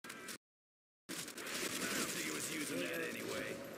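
Pistol fire from a zombie shooter video game: sharp, rapid shot bursts and game noise fill the clip after a brief gap of silence, with a dense, steady level throughout.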